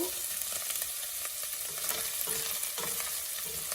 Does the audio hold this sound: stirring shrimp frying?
yes